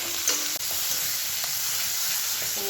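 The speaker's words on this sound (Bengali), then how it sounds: "পেঁয়াজগুলো নরম হয়ে গেছে টমেটোটা দিয়ে দেবো দিয়ে আর একটু নেড়ে চেড়ে একটু নরম করে নেবো" Onion, garlic and tomato fry in oil in a pan with a steady loud sizzle, broken by a few scraping stirs of a spoon. The sound is close and there is no talking.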